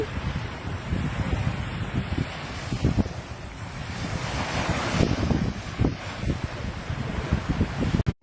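Sea breeze and waves at a beach: continuous surf wash and gusting wind buffeting the microphone, with a few louder swells, steady and close, with no one talking.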